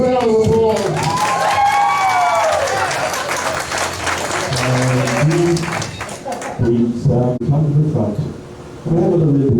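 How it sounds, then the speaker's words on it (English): An audience at a high school senior party hypnotist show bursts into applause and cheering, with the clapping and shouts fading to scattered crowd noise and voices toward the end. "Give it a thunderous round of applause."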